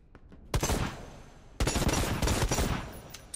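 Bursts of rapid automatic gunfire from the video game Necromunda: Hired Gun, two loud sustained volleys separated by a brief pause, close and dense.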